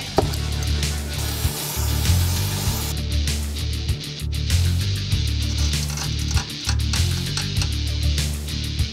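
A Toyota Land Cruiser FJ60 axle from an '85 truck is cut through with a power tool during a spring-over conversion, a steady grinding, rasping sound interrupted by short pauses and restarts.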